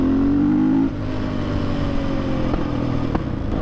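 A KTM Supermoto motorcycle engine runs close by, revving briefly before settling into a steady, rumbling idle.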